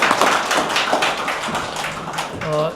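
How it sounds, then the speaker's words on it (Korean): Audience applause at a Korean peace and reunification symposium, a dense burst of many hands clapping steadily at moderate distance, with a brief voice rising near the end. "뜨거운 박수 부탁드립니다."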